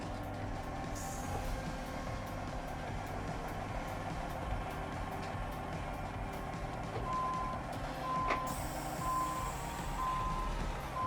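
Reversing beeps sound from a backing truck in American Truck Simulator, a steady series of evenly spaced tones over a constant low engine rumble, with no talk.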